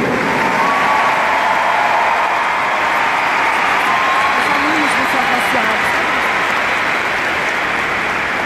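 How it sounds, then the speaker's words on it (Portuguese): Sustained applause from a large audience for the graduating class at a school graduation ceremony in Manaus, a steady dense wash of clapping lasting throughout with faint voices and cheering mixed in. "aos formandos, um forte aplauso"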